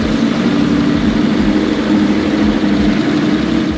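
A Porsche 908 Langheck (long tail) race car's flat-8 engine runs steadily with a loud, dense, close mechanical drone, holding an even idle-like rumble throughout with no voices.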